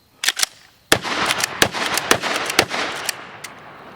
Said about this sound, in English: Has that spring assisted pump action, and man, it is fast to shoot.